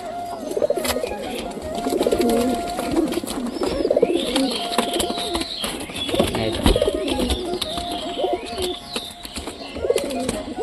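Pigeons coo repeatedly up close, low throaty calls rolling over one another, with a few faint chirps in the background.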